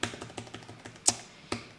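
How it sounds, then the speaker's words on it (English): Quick, fairly regular keystrokes on a computer keyboard, a run of light taps followed by two sharper, louder key hits, close by with no talking. "I was trying to control this with my keyboard"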